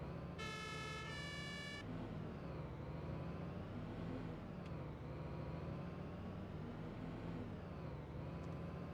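A Paris fire brigade fire engine starts up with a brief two-tone siren burst, then its engine rumbles steadily and close as the truck pulls away, with no one talking.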